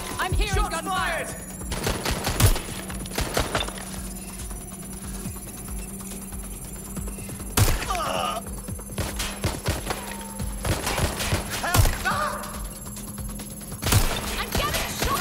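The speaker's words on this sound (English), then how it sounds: "They're shooting at us!" Sharp gunshots crack out in irregular bursts during a video game shootout, each report sudden and loud, with a low hum running underneath and shouting voices between the shots.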